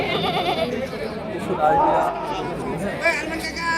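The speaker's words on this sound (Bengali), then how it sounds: "এখানে একটা সুন্দর পাঠা আছে" Goats bleat amid the busy chatter of a crowded livestock market in Natore, the wavering calls rising over constant talk from nearby people.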